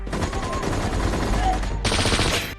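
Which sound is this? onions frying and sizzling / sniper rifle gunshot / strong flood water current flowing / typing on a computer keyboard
sniper rifle gunshot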